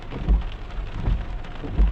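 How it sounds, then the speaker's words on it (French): Rain falls steadily during a thunderstorm, a dense hiss of drops with a few deep low thumps rolling underneath. "il faudrait qu'il arrête de mouiller"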